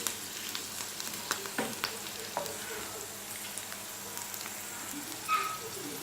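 Green chilies fry in oil for a chicken pickle, giving a continuous close sizzle broken by occasional stirring clicks and scrapes.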